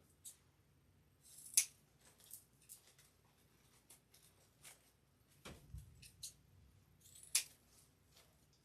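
Scissors snipping ribbon tails on a cancer awareness wreath, a few quiet crisp cuts and rustles spread out with gaps, close but faint, no voices.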